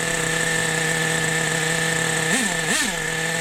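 A nitro engine runs at a steady, high-pitched idle after a rebuild, buzzing evenly at close range, with two brief pitch blips near the end as the throttle is touched.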